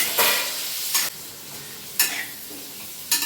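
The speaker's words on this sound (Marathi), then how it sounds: "कांदा थोडा छान फ्राय करून घ्यायचा" Onion frying in oil spiced with black pepper and cinnamon over medium heat, a continuous close sizzle marked by four sharp bursts as the pan is stirred.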